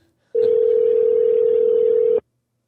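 A telephone dial tone while a call is being placed: one steady, clean, loud electronic tone that starts abruptly, holds for about two seconds and cuts off sharply, with no talking.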